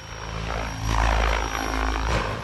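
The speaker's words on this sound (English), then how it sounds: "So now we're just gonna do a couple simple flips. See how the helicopter responds." A Mikado RC helicopter with Vbar tuning performing simple flips, its rotor and motor producing a loud, steady whine with a low, pulsing rotor wash that swells in the middle and near the end of the maneuvers.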